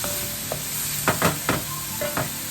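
Cubed ham sizzles in a hot pan alongside jicama and vegetables, with a steady frying hiss broken by several scraping stirs of a spatula.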